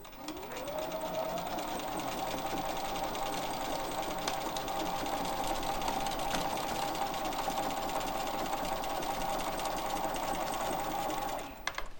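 A sewing machine stitches back-and-forth quilting lines on a quilt-as-you-go block, spinning up quickly and then holding a steady, close, humming rattle before stopping abruptly.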